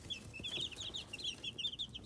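Two-week-old chicks give rapid high peeping chirps in a quick uneven string, soft and close, over a faint low background hum with nobody talking.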